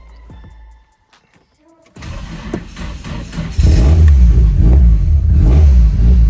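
A Nissan S15's engine, freshly repaired after a fire, cranks and fires up after a near-silent pause, then settles briefly before a strong, loud rev that holds steady and close to the end.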